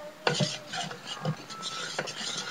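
A spoon stirs a pot of sauce on the stove, giving a few scraping, clinking strokes against the metal at an uneven pace, close and moderately quiet, with no talking.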